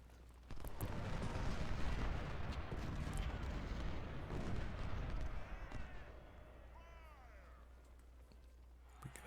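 Artillery cannon fire in the Civil War strategy game Ultimate General: Civil War, a dense rolling rumble of booms at low level that fades out after several seconds, leaving a faint hum.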